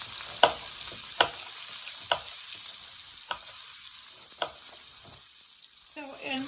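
Cabbage and carrots stir-frying in a pan for a Japanese tofu stir fry, a constant crackling sizzle punctuated by about half a dozen sharp spatula knocks, with a brief voice at the end.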